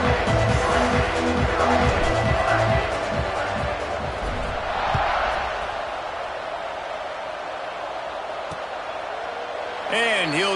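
A stadium crowd in the College Football 26 video game roars and cheers after a touchdown, a broad sustained swell that fades slightly, under a play-by-play commentator talking throughout.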